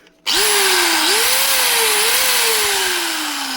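A repaired angle grinder, previously burnt out, whines loudly after a sudden start, its pitch dipping and rising slightly as it runs steadily with no talking.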